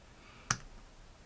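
A computer mouse clicking on a website logo: one sharp, close click, alone against quiet room hiss.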